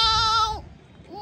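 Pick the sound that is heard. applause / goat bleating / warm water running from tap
goat bleating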